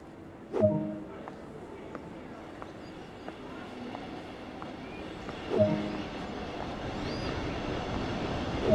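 A train pulls into a station in Train Sim World 2020 on the Main-Spessart line, a rising, distant rolling rumble with a couple of brief clanks, gradually growing louder.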